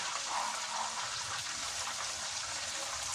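Mozzarella cheese sticks frying in hot oil, a steady close crackling sizzle with fine bubbling throughout, no talk over it.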